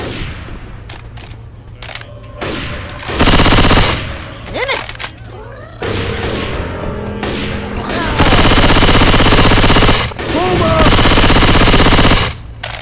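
Left 4 Dead 2 gunfire on the Dark Carnival level, long loud bursts of rapid automatic fire broken by short pauses and clanking weapon handling.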